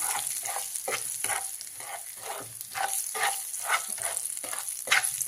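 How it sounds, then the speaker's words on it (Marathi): Spice masala fries in hot oil with cumin for a tomato chutney, giving a steady sizzle broken by rhythmic scraping stirs, loud and close with no voices. "तेलामध्ये मसाला चांगला भाजून घ्यायचा"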